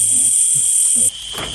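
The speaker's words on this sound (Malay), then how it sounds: "Dengar bunyi cengkerik." A steady high-pitched cricket trill drones continuously at night outside a hut before cutting off abruptly near the end, with faint low rustling beneath.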